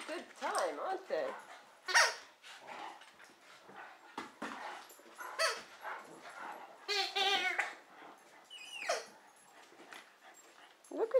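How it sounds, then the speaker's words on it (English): Rhodesian Ridgeback dogs play together with bursts of whimpers, yips and short barks that come and go irregularly, while people talk at times in the background. "These doggies are having a really good time, aren't they?"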